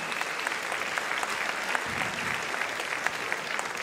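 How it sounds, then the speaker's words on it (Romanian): Sustained crowd applause for veteran folk dancers at a national folklore festival in Sibiu, Romania, a steady dense patter of clapping throughout with no talk over it. "Aplauze încă o dată pentru veteranii junilor Sibiului!"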